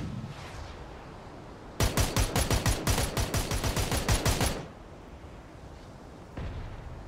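Mortar fire in the video game PUBG on the Miramar map, a rapid rhythmic burst of about twenty booming shots lasting a few seconds, loud against a low rumbling background, with a single fainter thump afterward.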